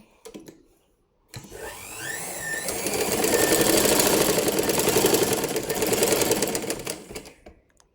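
A sewing machine stitches close by, whirring up after a short pause into a fast, steady run with a slight rise and fall in speed before it winds down.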